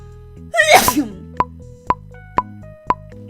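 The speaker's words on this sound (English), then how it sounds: "Apparently I'm a really loud sneezer." A single loud, close sneeze bursts out over a steady game soundtrack of low beeping tones and evenly spaced clicks that continue after it.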